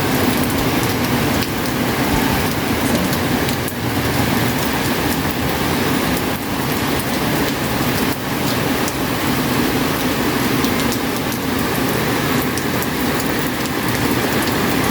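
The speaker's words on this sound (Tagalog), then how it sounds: "Ayan, malakas-lakas din po ang ulan." Fairly heavy rain pours down steadily on a rainy day, a loud, continuous hiss of drops on surfaces that holds unbroken throughout with no voices.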